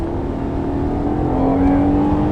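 A Honda Accord V6 fitted with a long-tube J-pipe accelerates hard, heard from inside the cabin: a loud, deep engine note climbs steadily in pitch over a couple of seconds.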